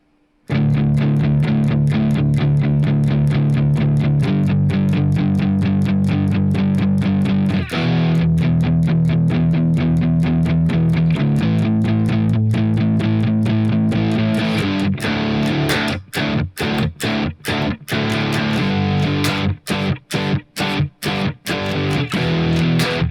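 Distorted electric guitar plays the verse rhythm part of a song, loud and steady with chugging chords that shift positions, then turn choppy with stops and gaps toward the end, no voices.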